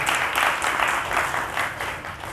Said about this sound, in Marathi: त्यांचं आपण टाळ्या वाजवून स्वागत करू